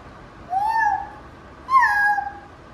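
Two drawn-out meows from a cat, each lasting under a second and separated by a short pause, clear against a quiet background.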